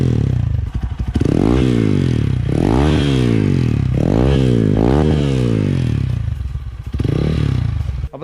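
Hero XPulse 200 motorcycle fitted with an Akrapovic exhaust revs loudly and close up in several repeated bursts, each climbing and falling back to a deep, bassy idle.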